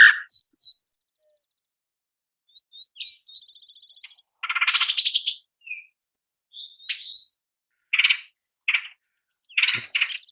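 Wild birds give a series of calls with whistled chirps, a short trill and harsher buzzy notes, coming in clear, separate bursts against near silence.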